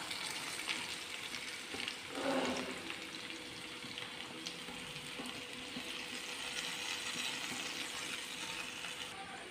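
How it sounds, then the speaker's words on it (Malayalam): Sliced onions fry in leftover oil in a pan, a soft steady sizzle with a brief louder stirring scrape near the start, faint and close. "ഇനി നമുക്ക് ആ ബാക്കി വന്ന എണ്ണയിലേക്ക് ഒരു രണ്ട് സവോള ചേർത്ത് കൊടുക്കാം"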